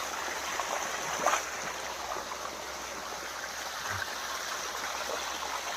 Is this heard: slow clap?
no